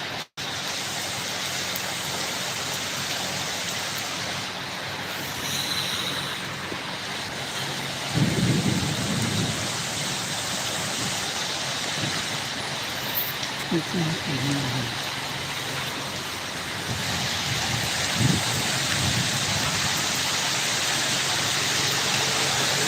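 Heavy rain hisses steadily in Kuwait with low rumbles of thunder and gusts of wind, and a person talks now and then over the downpour.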